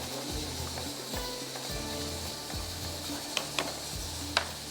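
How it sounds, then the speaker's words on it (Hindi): A spoon stirring in a cooking pot over a steady background hiss of simmering, with soft irregular scrapes and a few brief clinks near the end. "थोड़ा इसमें हम चम्मच चला लेते हैं।"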